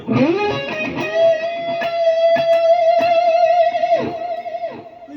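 A distorted electric guitar, played through a BOSS ME-70 multi-effects unit, plays a sustained lead solo note with bends and a few picked notes, loud and clear, with no voices.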